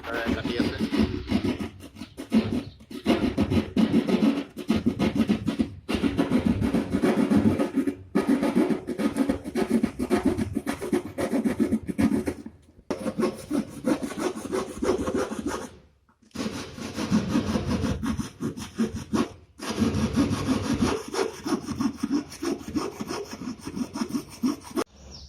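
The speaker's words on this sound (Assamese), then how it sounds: "আমাৰ নিখিল গগৈয়ে লাইটৰ পইণ্টটো কিবৰ্ডটো স্ক্ৰু ব্লেডৰ দ্বাৰা কাটি আছে" Cutting a light point hole in false ceiling board with a hand blade in an indoor installation job: steady, loud rasping strokes continue for most of the clip, with a few brief pauses, and no talk.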